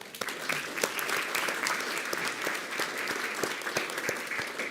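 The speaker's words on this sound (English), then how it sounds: "A round of applause for Ms. Martinez." An audience at a school district board meeting gives steady, moderately loud applause, many hands clapping together in an even burst with no talking over it.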